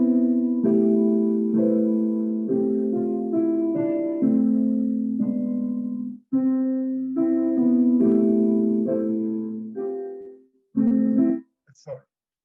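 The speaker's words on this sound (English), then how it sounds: "Let's sing through it once with me on the piano." Choir voices sing a sustained, legato hymn-like passage with piano accompaniment in a Sunday service setting, phrases swelling and pausing near the end with a brief silence before a final short chord.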